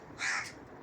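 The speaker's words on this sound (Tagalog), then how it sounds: "Yung uwak, ah." A crow caws once, loud and close, a single harsh call in the open with faint background noise.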